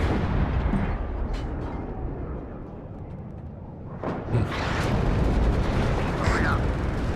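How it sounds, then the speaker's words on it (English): Artillery fire strike in the Cold War real-time strategy game WARNO, a sustained rumbling barrage of booms and bursts that swells louder toward the end, heard alone without talk. "Feuerschlag unterwegs."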